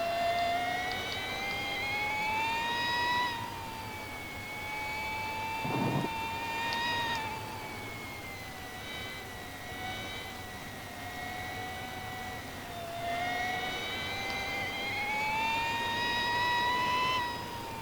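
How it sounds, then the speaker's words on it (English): MotoE electric racing motorcycle in the MotoGP 19 video game, a steady high electric whine that rises and falls in pitch through the lap, fairly loud and continuous, with no talk. "I don't mind the sound too much of the MotoE bikes."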